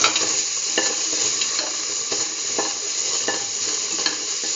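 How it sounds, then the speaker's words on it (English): Tomato pieces sizzle loudly in a hot pan while a utensil stirs them, with regular scraping strokes about every half second over a constant close frying hiss. "Put in the tomato pieces."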